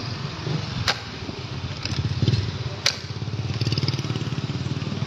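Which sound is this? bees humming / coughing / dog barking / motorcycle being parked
motorcycle being parked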